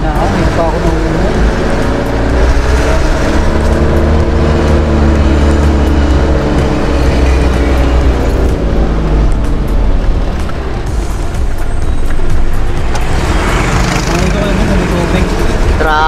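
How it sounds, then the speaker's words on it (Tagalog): Dense road traffic in the Philippines, a loud continuous rumble of engines and passing vehicles with shifting engine tones throughout, and a voice speaking over the noise at times. "Traffic na."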